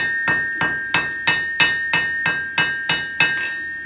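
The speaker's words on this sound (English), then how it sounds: "And then you can increase your hammer blows." A blacksmith's hammer strikes hot steel on an anvil while forging a fish hanger, about nine sharp, ringing blows at a steady rhythm, each with a bright metallic ring, close and loud with no talk.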